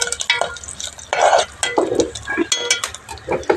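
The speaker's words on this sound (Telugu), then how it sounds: "ఇప్పుడైతే చింతపండు కూడా వేసేసి అందులోనే ఒక్క ఇలా ఫ్రై చేసుకుంటున్నాను" Tamarind fries in a pan with a busy mix of sizzling and stirring, utensil scrapes and clatter against the pan, close and fairly loud throughout.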